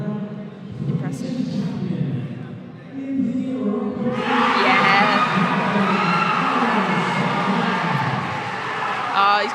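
A crowd at a boxing championship roars and cheers for a boxer, the noise building sharply partway through and staying loud, with a commentator talking over it.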